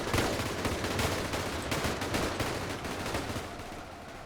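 Dense rapid gunfire and distant explosions from the battle video game Ultimate Epic Battle Simulator, a continuous rattling barrage at low volume with no speech.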